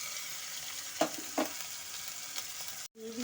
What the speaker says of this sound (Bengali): এখন ওর মধ্যে দিয়ে দিচ্ছি পেঁয়াজ, রসুন আর আদা, কাঁচা লঙ্কা বাটা